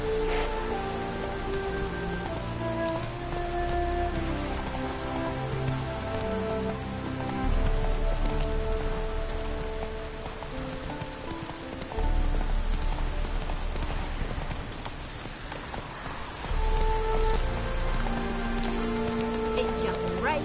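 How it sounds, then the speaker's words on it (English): Steady rain falls in The Witcher 3: Wild Hunt, a continuous patter running the whole stretch beneath layered game music with sustained tones. "It just rains and rains."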